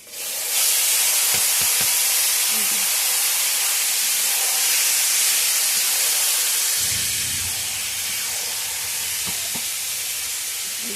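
Taro leaves (kochu shak) hiss and sizzle loudly in a hot pan with fried chilli, a steady broadband frying roar with a few clatters of stirring, easing slightly after the leaves settle.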